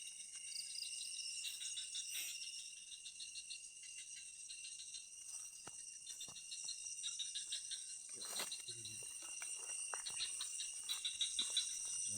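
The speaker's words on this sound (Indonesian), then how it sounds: "Syahdu itu maksudnya kayak suara saling bersautan, suara kodok." At night near a rough trail, frogs and insects call back and forth in a faint, continuous chorus of buzzing, pulsing calls that overlap and drift from a distance.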